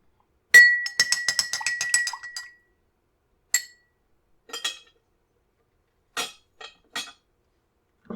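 A spoon clinks rapidly against the inside of a glass in a quick burst of stirring a Bloody Mary, followed by a few scattered, separate clinks.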